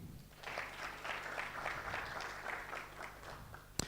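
Clapping from an audience at a live-streamed awards event at the Dubai World Trade Center, a dense, steady round of applause filling the whole stretch and ending with one sharp final clap.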